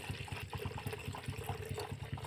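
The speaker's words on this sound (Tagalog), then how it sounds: "ilalagay po natin yung maligamgam pong tubig" Lukewarm boiled water being poured out for animals to drink, a steady splashing pour with a faint rhythmic patter, close and fairly quiet.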